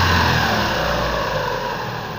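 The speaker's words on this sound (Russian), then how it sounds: "Двигатель прекрасно реагирует." A car engine with a freshly repaired crankshaft keyway runs steadily and loud on throttle, a continuous broadband hum with a low drone throughout and no voices.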